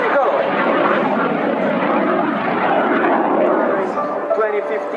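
A Frecce Tricolori solo display jet flies at an air show, its engine roar loud and sustained throughout, with a commentator's voice over the public address partly audible beneath it.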